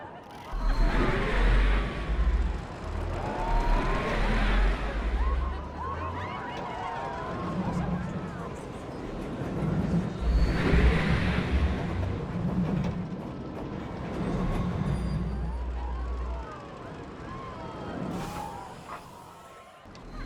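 Game roller coaster with multiple launches and an inversion, heard from the rider's seat: rushing, rumbling track noise swells and fades in waves over about twenty seconds, with low mechanical drones during the launches.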